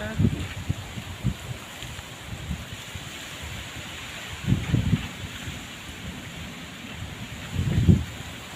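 Wind gusts rumble and buffet the microphone in a few heavy bursts over a soft, steady hiss of rain.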